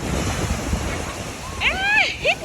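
Strong sea waves wash steadily onto the sand at Bang Saen beach, a continuous rushing surf with wind noise. Voices call out over the water near the end.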